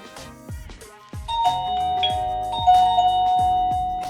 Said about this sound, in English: and then you can press the video doorbell.